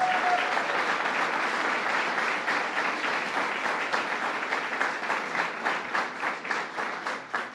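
A crowd applauds at a bill signing ceremony for a plastic bag law in Kingston, New York, steady clapping that thins toward the end into more distinct individual claps.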